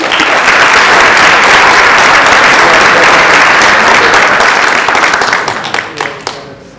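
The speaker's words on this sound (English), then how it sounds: "Let's give them a round of applause." Loud, sustained applause from a crowd honoring graduating high school seniors at a senior prom event, dense clapping that holds steady and then thins to scattered claps at the end.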